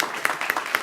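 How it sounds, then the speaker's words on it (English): Audience applause at a Black History education event, a short burst of moderate clapping with a few sharper individual claps standing out. "So please, round of applause for Alice."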